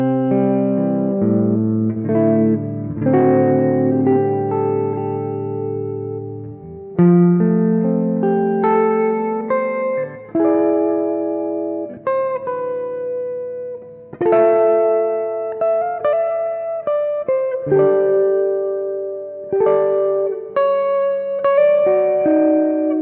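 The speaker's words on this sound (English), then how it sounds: "I use the red Panda Context reverb, currently on the plate setting" Clean electric guitar plays sustained chords and melodic notes through a Red Panda Context reverb pedal on its plate setting, with no amp, washed in a smooth, lingering reverb that lets each note ring and blend into the next.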